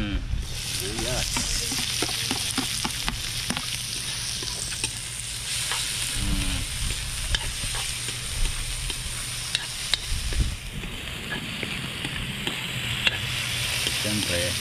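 Sliced onions sautéing in a pan while cooking bopis, a steady close sizzle with frequent scraping stir strokes throughout and no talking.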